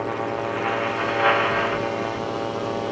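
Buccaneer II aircraft engine running at about 6,000 RPM in flight, a loud, continuous propeller drone heard from the cabin with a brief swell partway through.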